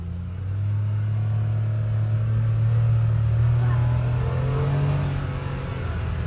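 Steady low engine rumble inside the quiet cab of a 2024 Polaris Xpedition UTV on the move, a constant drone with a faint rise in pitch around the middle, no talk over it.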